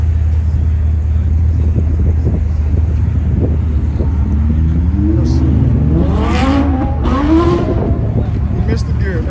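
A car at an outdoor Coffee and Cars show in Oklahoma City revs hard with a missed gear shift: rising engine notes climb and stutter over constant wind buffeting on the microphone.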